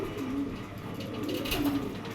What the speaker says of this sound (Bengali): দেখেন এটা একটা নর কবুতর